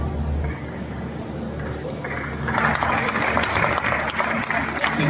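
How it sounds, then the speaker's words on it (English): Audience applause at a cybersecurity month launch event, clapping that swells after a couple of seconds over a low hum and some mixed crowd noise. "A round of applause, please."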